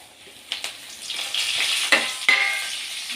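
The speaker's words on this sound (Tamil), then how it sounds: "பொரிக்குது." Curry leaves crackle and sizzle in hot oil with fennel seeds, with bright spitting pops and a steady frying hiss close by.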